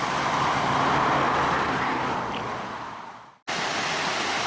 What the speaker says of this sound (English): These cars drive far too fast for the conditions